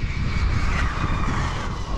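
A Losi Super Baja Ray 2.0 RC car on 8S power screams at full throttle, a loud, steady high-pitched motor and drivetrain whine that holds without a break, with no voices over it.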